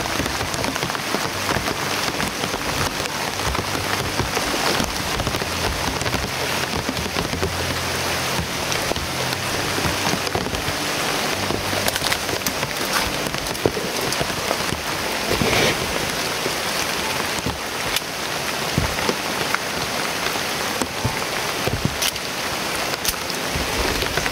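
Steady rain falling outdoors, a loud, dense hiss of drops on surfaces with scattered louder splats, continuous throughout and with no one talking.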